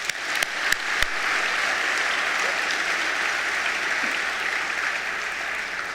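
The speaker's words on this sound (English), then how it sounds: "let's give those seniors another round of applause." Applause for graduating seniors at a high school senior assembly, loud and steady from a large audience for the whole stretch, opening with a few sharp separate claps.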